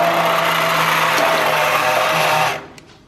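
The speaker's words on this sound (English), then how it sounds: "I'm gonna go ahead and puree a little bit of it just to thicken it up" An immersion blender purees a pot of black bean soup, a steady loud motor whir with a faint tonal hum that runs evenly for about two and a half seconds, then cuts off abruptly.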